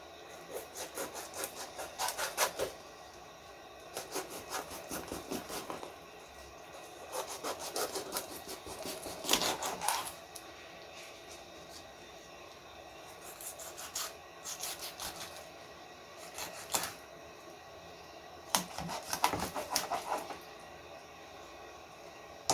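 Quiet, intermittent knife scraping and sawing as a fish's head is cut off while preparing Lahori-style fried fish, short rough strokes coming in bursts with pauses between them.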